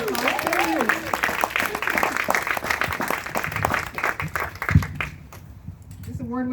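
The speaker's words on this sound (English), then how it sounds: "Can we give them a big round of applause?" Audience clapping for a classical theatre company at an arts awards event at Guild Park in Scarborough, Ontario, a loud burst of applause heard under a speaker's voice that fades out near the end.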